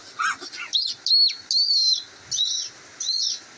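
A person imitates bird calls with the mouth, giving a series of short whistled chirps and tweets in bursts separated by brief pauses, close and clear.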